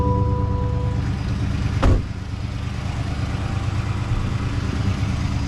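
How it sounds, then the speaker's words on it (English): A car engine cranks over with a brief burst of starting noise, then settles into a steady, continuous idle rumble. "So now what I'm gonna do, start the car."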